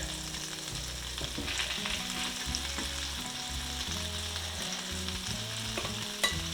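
Green tomato slices sizzle steadily in a hot pan, a continuous close crackle of frying with faint background tones and no voices.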